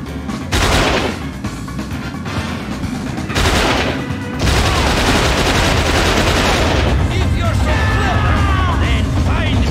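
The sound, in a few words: heavy gun firing in video game XIII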